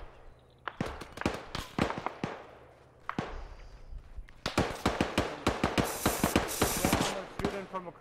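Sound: gunfire from across the street in the video game ARMA 3

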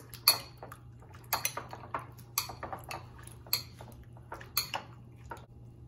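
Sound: mixing shrimp ceviche in a bowl

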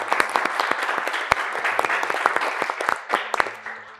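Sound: audience applause welcoming a guest

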